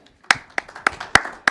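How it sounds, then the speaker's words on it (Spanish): Hand claps from a church congregation during a sermon, about five sharp, evenly spaced claps heard up close, sparse and distinct rather than a full roar of applause. "Podemos dar un aplauso por ese concepto"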